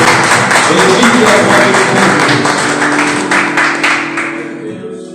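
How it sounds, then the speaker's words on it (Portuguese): Church congregation applauding during a service, dense rapid clapping from many hands that starts loud and gradually fades out, with tonal sound and voices mixed underneath. "Aplauda ao Senhor"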